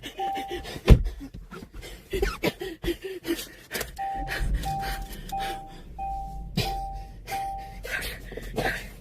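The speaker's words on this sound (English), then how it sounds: "Why is she breathing like that?" A woman pants heavily and raggedly out in the woods, short loud breaths coming close and irregular, with a repeating electronic beep chiming in several times partway through.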